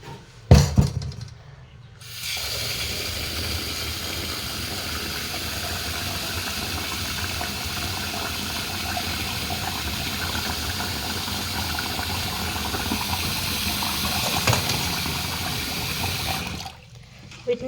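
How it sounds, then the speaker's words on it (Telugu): Basmati rice is washed in water, a continuous rushing, splashing wash that runs steadily for most of the stretch, fairly close and without talk over it. "నేనైతే బాస్మతి రైస్ తీసుకొని ఇవి అయితే ఇప్పుడు కడుక్కుందాము"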